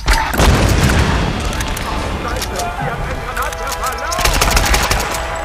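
Grenade launcher fire in the Tomb Raider game, loud repeated booming blasts and gunfire bursts packed densely across the clip, with a voice speaking over the action.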